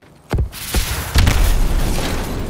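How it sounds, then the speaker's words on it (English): A boost slam in Call of Duty: Advanced Warfare lands with a sharp impact followed by a heavy booming explosion, loud and close, with a rumbling tail that lingers to the end. "A basic boost slam without the overdrive perk will cause an explosion"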